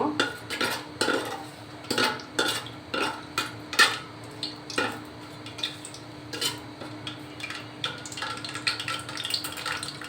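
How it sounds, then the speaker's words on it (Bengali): Cardamom pods, two large cinnamon sticks and a torn bay leaf stirred in a pan while making plain pulao, with repeated metallic scrapes and clinks of a spoon against the pan, close and fairly loud, no talking. "এলাচ আর দুইটা বড় সাইজের দারচিনি আর একটা তেজপাতা আমি মাঝখান থেকে ছিঁড়ে নিয়েছি দিয়ে একটু নেড়ে নিব"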